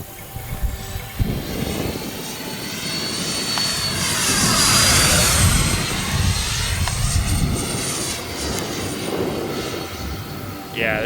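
An RC model F-14 Tomcat jet passes overhead with a rising and falling whine that peaks midway as it sweeps by, then fades. Outdoor wind noise runs underneath.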